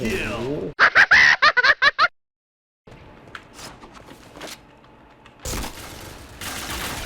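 Gunfire in an online shooter game: a quick, loud run of about seven rapid shots, then a gap of silence, then quieter scattered game sounds with voices reacting.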